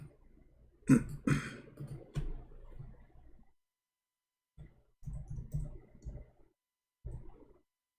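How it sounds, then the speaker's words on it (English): A search being typed on a computer keyboard, a few scattered bursts of key clicks in irregular clusters separated by silent gaps, close and fairly quiet. "If we go in the Quran right now and we search for the word Muhammad, I will type it in front of you."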